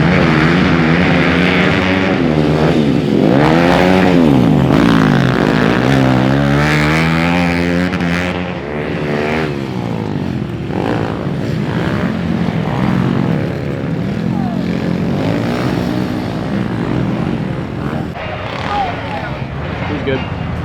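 A fast group of racing motorcycles at the Woodsman Cup roars past up close, engines rising and falling in pitch as bikes scream by one after another, loud and continuous.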